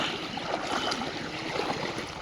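Steady rushing water of a stream flows continuously, a broad even wash of sound close by with no voices.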